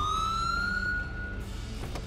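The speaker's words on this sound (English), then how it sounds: "turn that siren off" A police siren from the video game GTA FiveM wails steadily in a rising, sustained tone, then cuts off partway through, leaving quieter background game sound.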